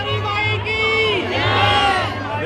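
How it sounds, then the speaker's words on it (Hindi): Dense crowd of devotees at Bastar Dussehra, welcoming Maa Danteshwari's palanquin in Jagdalpur, shouting and chanting praises together in overlapping loud cries over a steady low rumble, close and continuous. "सभी माँ दंतेश्वरी के श्रद्धा में ये सभी आए हुए हैं और सभी जयकारा लगा रहे हैं"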